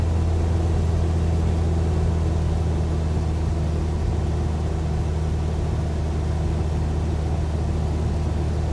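Cessna 172 piston engine in flight with the throttle eased back, a steady, loud, close droning hum with a low rumbling tone that holds evenly throughout, no voices.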